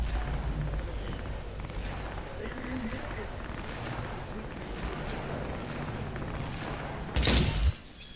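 A single sharp, loud gunshot blast cracks near the end of a scene from the video game Cyberpunk 2077, rising briefly out of a steady, busy background rumble of game ambience.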